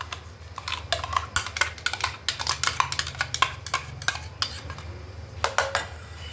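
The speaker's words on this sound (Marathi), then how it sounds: "आता एका पातेल्यामध्ये काढून घेऊया." Raw mango sherbet mixture with sugar and mint tipped into a metal pot, a close series of spoon clinks and scraping taps against metal over a low steady hum.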